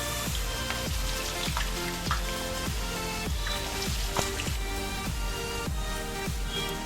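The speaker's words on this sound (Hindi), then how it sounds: "अब इसी तरह हम इसको भी फ्राई कर लेंगे।" Spiced finger chips deep-frying in hot oil, a steady dense sizzle and crackle with regular soft bubbling pops, close and continuous with no talk.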